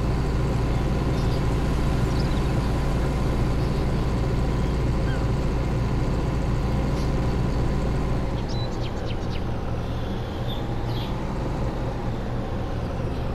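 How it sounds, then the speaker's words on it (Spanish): Steady low engine drone of a tractor in Farming Simulator 19, heavy and truck-like, running continuously and fairly loud with a deep rumble throughout, no talk over it. "sonido de motores, pues prácticamente no lo tiene ningún otro tractor"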